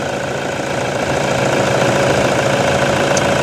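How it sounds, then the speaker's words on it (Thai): Toyota Vigo pickup engine idling steadily just after starting, following work on a no-start problem; a loud, close, continuous mechanical drone with a faint rattle, no voices. "หลังจากที่สตาร์ทติดเสร็จแล้วเราจะรันให้อุณหภูมิได้นะพออุณหภูมิเครื่องยนต์ได้นะครับ"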